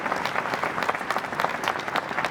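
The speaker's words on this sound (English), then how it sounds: "let's please give them all a hand of applause for sharing their great story today" An audience at a panel session on digital transformation claps for the panelists, dense steady applause from a crowd, close and fairly loud throughout.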